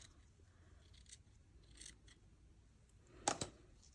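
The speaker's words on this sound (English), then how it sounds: "I'm going to trim a little off the top." Scissors trimming cheesecloth for a mixed-media journaling card, a few quiet close snips with soft fabric rustle, ending in a sharper double cut.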